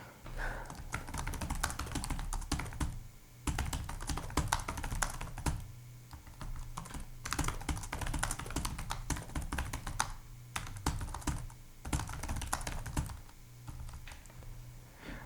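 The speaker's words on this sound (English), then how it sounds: "This is probably one of the best keyboards that I've typed on." Steady typing on a Dell Latitude laptop keyboard, close and clear, with dense clicking keystrokes coming in bursts and brief pauses throughout, no voices.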